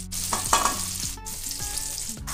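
Potatoes sizzle and crackle in hot oil in a wok, with several scraping stirs of a spatula against the metal at a steady rhythm, close and fairly loud.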